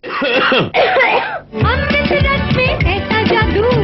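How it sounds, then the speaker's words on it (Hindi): Several harsh, throaty coughs come in quick bursts up close, with brief pauses between them, loud and raspy. "खांसी को कर ले फौरन काबू"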